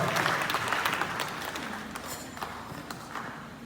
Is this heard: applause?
yes